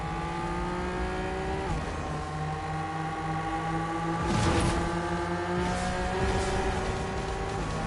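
A loud car engine in Fortnite whines and shifts pitch as it revs up and down, with synthetic gear changes and occasional crashes.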